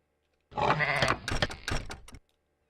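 A single sheep bleats in the PS2 video game Babe from 2006, a close, wavering cry lasting under two seconds with a few pulsing breaks, alone against silence.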